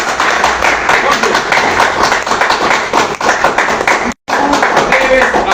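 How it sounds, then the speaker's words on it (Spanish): A church congregation claps loudly in a dense, uneven patter of palms, with voices mixed in and a brief dropout near the end before the clapping resumes. "Dale fuertes palmas a Cristo."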